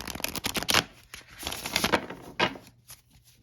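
Tarot cards being shuffled by hand in quick riffling bursts with soft papery flicks between them, close and fairly quiet.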